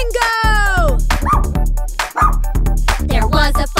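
A cartoon dog yips and barks several times in quick succession within a nursery rhyme song, the barks mixed with musical accompaniment and sung voices.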